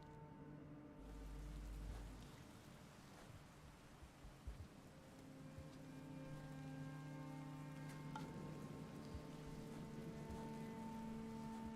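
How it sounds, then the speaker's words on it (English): Steady rain hisses and patters in the video game Rain World, a soft continuous wash under faint musical tones and occasional game sounds. "It's raining."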